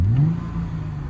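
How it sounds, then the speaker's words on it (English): A 2006 Chrysler Crossfire 3.2 V6 manual convertible gives one quick blip of the throttle. The engine note sweeps sharply upward, then drops back to a smooth, steady idle hum close by. "let me give it a very quick rev"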